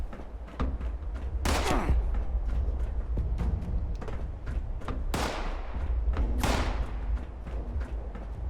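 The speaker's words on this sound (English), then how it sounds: "Shooting at me over there." Gunfire crackles in the game Fallout 76, repeated shots and several louder sharp bursts spread irregularly over steady background rumble.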